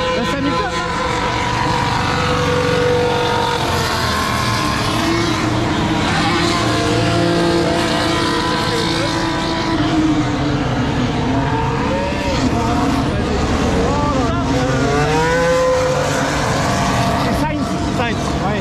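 A Formula 1 car driven by Hamilton roars past on the race track, a loud continuous engine whine with rising and falling pitch sweeps, heard under ongoing talk from spectators.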